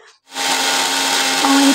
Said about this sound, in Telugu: మిక్సీకి పెడితే ఒక 2 మినిట్స్ మిక్సీకి పెడితే చాలా నున్నగా బాగా చట్నీ బాగా వస్తుంది